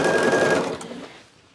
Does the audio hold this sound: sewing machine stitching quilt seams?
yes